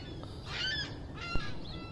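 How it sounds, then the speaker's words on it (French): Seagulls calling on a rainy morning, several honking, nasal cries overlapping against steady background hiss and low rumble, fairly close and loud. "Alors ce matin, c'est la folie des mouettes"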